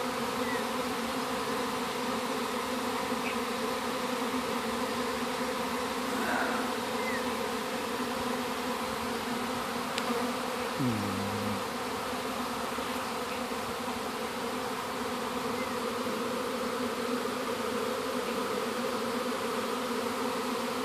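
A dense swarm of honeybees buzzes steadily around a seated beekeeper near the hive, a loud continuous drone with individual bees passing close now and then.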